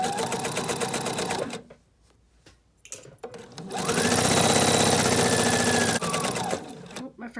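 A sewing machine set for heavy woven fabric at a 3.0 stitch length sews terry cloth for a baby burp cloth. It runs in a rapid mechanical whir, pauses briefly, then starts again in a longer, louder steady run.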